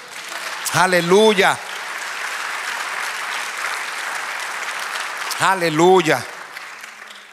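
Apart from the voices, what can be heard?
congregation applause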